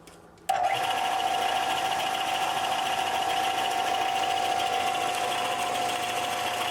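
A sanding machine fitted with 120 grit paper starts up with a sudden onset and then runs at a steady, loud whir, holding one constant pitch with a hissing buzz and no one speaking.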